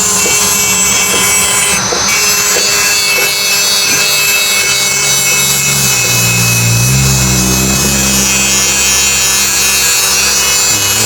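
A hand wood plane shaves wood in a carpenter's workshop, producing continuous loud rasping strokes up close with repeated scraping passes and no talk.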